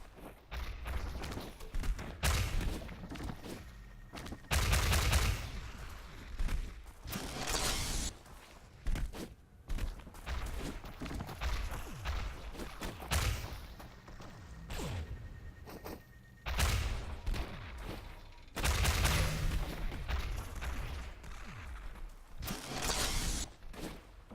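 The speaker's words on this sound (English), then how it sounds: "Oh, very nice rockets from Kala again." Rocket fire from ShootMania weapons during a competitive quarter-final match, heard as repeated whooshing launches and dull impact bursts every few seconds, moderately loud over a steady game ambience with no speech.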